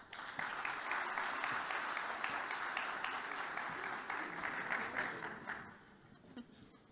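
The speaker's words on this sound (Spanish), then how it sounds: "Un aplauso, por favor." Steady audience applause at a panel symposium on digital innovation, moderately loud and continuous for several seconds before thinning out and fading near the end.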